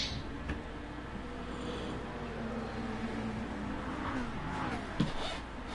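An Alfa Romeo and a McLaren race side by side in the Gran Turismo 2 video game, their engines giving a steady, moderately loud drone with a whining tone and a brief sharper knock near the end.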